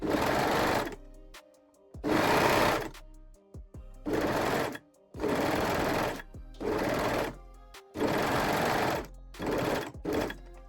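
A sewing machine attaches elastic to a bikini bottom in about seven short, even bursts of motor whir, with quiet gaps between the stitching runs.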